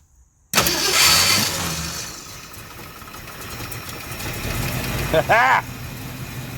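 An AMC AMX engine cranks and catches after a sudden start, then settles into a steady rumbling idle close by, with a brief revving blip near the end and faint talk in the background.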